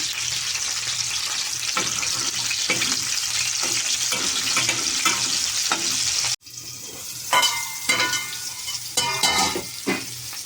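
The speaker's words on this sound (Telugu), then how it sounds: "ఇప్పుడు ఎండు చేప ముక్కలు వేగిపోయినాయి కదా" Dried fish pieces fry in hot oil for a bitter gourd dish, giving a steady close sizzle with scattered crackles; partway through it drops out briefly and then returns in uneven bursts of popping and stirring.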